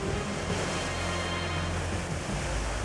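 Ocean set waves surge and wash over a rocky shoreline, a steady loud roar of churning surf with constant wind noise and no distinct breaks.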